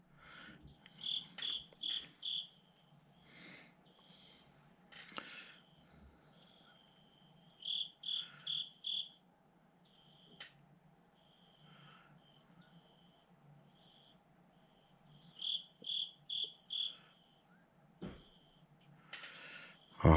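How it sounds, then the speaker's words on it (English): Crickets chirping in quick bursts of four or five pulses, repeating every few seconds in a quiet, still background with faint scattered sounds between. "At least you can hear the crickets."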